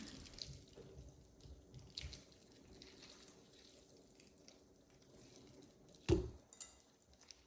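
Grated zucchini is squeezed by hand over a bowl, giving faint, quiet wet squelches and drips, with a louder squish about two-thirds of the way through and no voices.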